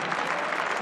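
Crowd applause fills the Arena Leipzig after an Iran victory in a men's indoor hockey World Cup 2015 quarter-final against Russia: dense, steady clapping from a large indoor audience, continuous and loud throughout.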